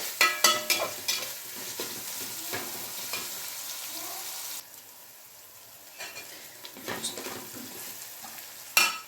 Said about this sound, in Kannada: ಈ ರೀತಿ ಟೊಮೆಟೊನ ಹಾಕಿದ ತಕ್ಷಣ ಈ ರೀತಿ ಫ್ರೈ ಮಾಡ್ಕೊಂಬಿಡಿ